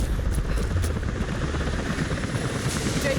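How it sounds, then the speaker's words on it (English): A helicopter in Rise of the Tomb Raider thrums close and loud, its rotor chop rumbling low and continuous throughout, with no talk over it. "helicopters are headed your way."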